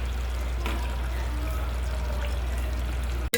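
Hot boiled water poured from a pot into simmering aloo chicken curry, a steady continuous pour lasting a few seconds, close and fairly loud, ending with a brief clunk.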